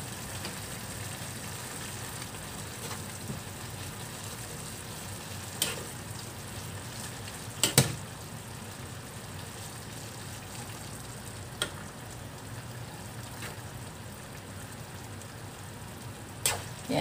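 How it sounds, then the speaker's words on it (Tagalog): A pot of soup bubbles at a steady low boil, a continuous soft hiss with a few faint clinks and taps, no talking. "Ayan, kumukulo na"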